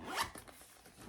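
Zipper on the inside pocket of a handmade fabric shoulder bag being pulled, one quick close rasp peaking early, then a few softer zip strokes, alone and near.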